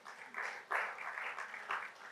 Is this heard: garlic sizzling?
no